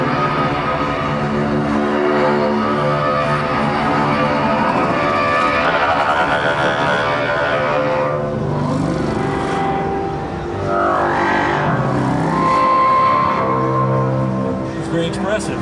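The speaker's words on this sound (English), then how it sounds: "This is a bowed acoustic guitar with a cello bow and a Turkish spike fiddle played with an E-bow." A bowed acoustic guitar played with a cello bow and a Turkish spike fiddle played with an E-bow, run through the Spectrasonics Omnisphere steam engine, produce loud sustained layered drones with gliding, swelling tones that bend and shift throughout.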